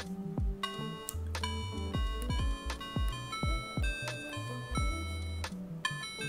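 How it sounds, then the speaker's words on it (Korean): OP-Z synthesizer from Teenage Engineering giving bright, toy-like electronic tones: plucky pitched notes with sharp attacks and a low bass line, playing steadily and close for a few seconds without talk. "무슨 애들 장난감 같은 소리 났죠 지금은"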